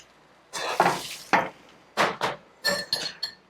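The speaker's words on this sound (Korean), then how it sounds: "마늘하고 새우젓을 이렇게." Zucchini stir-frying with garlic and salted fermented shrimp in a pan, heard as a run of separate scraping stirs and clinks of a utensil against the pan over a faint sizzle, close and without talk.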